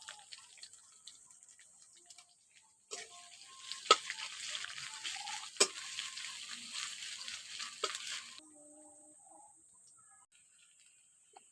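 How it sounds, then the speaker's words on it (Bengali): Chopped onion dropped into hot oil over a tempering of whole spices and halved green chillies, sizzling at moderate loudness for several seconds with a few sharp clinks and stirs, then dying down to faint quiet. "ওর মধ্যে পেঁয়াজ কুচি দিয়ে দিচ্ছি"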